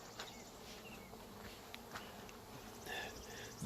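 Russian honey bees buzz at hive colonies in a dense, continuous swarm hum, with single insects passing close by now and then.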